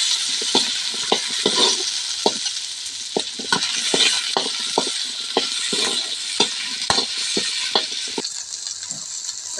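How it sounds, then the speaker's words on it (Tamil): Onions sautéing in a pan for mutton gravy, a steady crackling sizzle with frequent scraping stirs of a spatula at a close distance. "வெங்காயம் நல்லா வணக்கி எடுத்துக்கிட்டுங்க."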